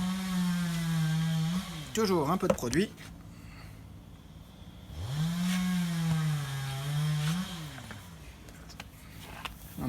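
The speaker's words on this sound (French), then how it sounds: "Vive les tronçonneuses." A chainsaw idles and revs close by, its engine pitch rising and falling through several bursts, with a person speaking briefly over it.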